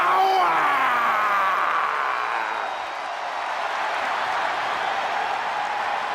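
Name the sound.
WWE crowd applauding the tag team champions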